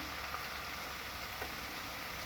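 Chayote (chow chow) curry with chilli powder and salt frying in a pan, a steady soft sizzle that holds evenly throughout with no talk.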